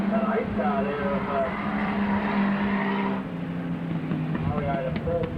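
A Standard Saloon race car at Rosedale Speedway runs loud and rough on a dirt track, a harsh sustained engine roar with a shift in tone midway, heard under continuous commentary.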